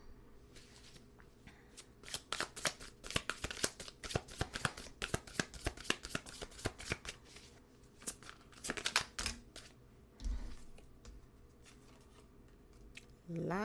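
Rapid riffling and snapping of playing cards being shuffled up close, in repeated bursts with short pauses, ending with a soft thud.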